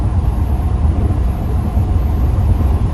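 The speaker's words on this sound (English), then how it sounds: "passing another truck now, going about 73 miles an hour" Steady loud road rumble and engine drone inside a Class B RV cruising at about 73 mph on the highway while overtaking a flatbed truck, continuous and close with no voices.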